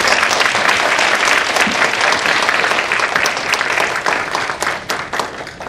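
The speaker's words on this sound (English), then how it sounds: "So let's give applause." An audience at an education roundtable forum in Taiwan applauds steadily, a dense wash of many hands clapping that stays loud throughout and tapers slightly near the end.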